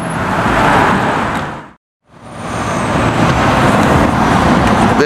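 A BMW M3 in Voodoo Blue roars past loudly and close, its broadband engine and road noise swelling, cutting briefly to near silence mid-pass, then surging back as a sustained drive-by.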